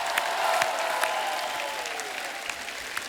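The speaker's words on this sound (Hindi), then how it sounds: "एक बार जोरदार तालियों से स्वागत कीजिए नए टैलेंट का।" A studio audience at The Kapil Sharma Show claps loudly to welcome new dance talent, a continuous round of applause with a gliding musical sweep passing through it before easing slightly.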